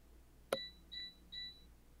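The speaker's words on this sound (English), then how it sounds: "That's my little phone. It's running low on battery." A small phone sounds its low-battery alert in a quiet room: a soft click followed by three short, thin, high beeps spaced evenly, faint and alone.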